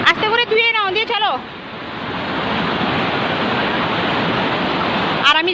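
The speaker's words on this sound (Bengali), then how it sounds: "প্রচুর বৃষ্টি হচ্ছে, পুরো ভিজে গেছি।" Heavy rain pours outdoors as a steady, close, dense hiss, filling most of the stretch after a voice and other speech at the start, with a little talk returning at the end.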